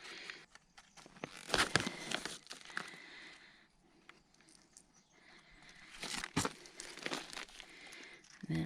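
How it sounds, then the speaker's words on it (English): Germination compost being scooped from a bag into a seed tray outdoors at an off-grid smallholding, giving close crinkling, rustling and crunching in irregular bursts, loudest near the start and again toward the end, with no talking. "So I'm gonna fill this tray up with this stuff in this bag, whatever it is."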